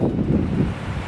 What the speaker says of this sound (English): It's a little windy, but here's the pool.